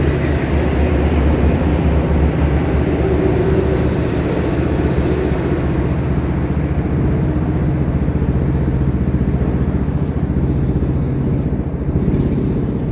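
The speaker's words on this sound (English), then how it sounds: "It's a truck. It sounds like a motorcycle." A truck's loud, rumbling engine roars steadily throughout, a deep throaty drone like a motorcycle, with no voices.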